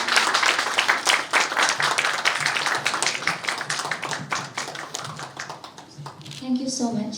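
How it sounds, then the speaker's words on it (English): An audience at a Miss Universe Meghalaya event in Shillong claps steadily and loudly for several seconds. The applause thins out toward the end, and a voice comes in over the tail. "Come on, a huge round of applause."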